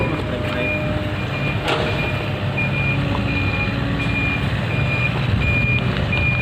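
A vehicle backs up with a steady, evenly spaced series of reversing beeps over a loud rumbling engine and road noise, the beeping continuing clearly throughout.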